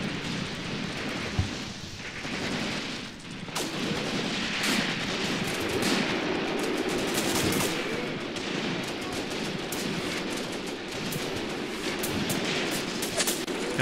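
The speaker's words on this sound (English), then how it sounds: "That's that MG42, and that thing is actually doing a pretty good job at keeping us suppressed." MG42 machine gun fire in the Graviteam Tactics combat game, a dense, continuous crackle of distant gunfire and battle noise with sharp reports scattered through it.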